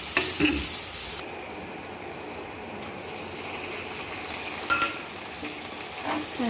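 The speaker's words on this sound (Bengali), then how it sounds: "এর মধ্যে রসুনটাও দিয়ে দিয়েছি, এবার একটু ভালো করে ভেজে নেব আগে।" Garlic, bay leaf and garam masala frying in hot oil in a home kitchen, giving a steady soft sizzle with occasional clinks and scrapes of stirring.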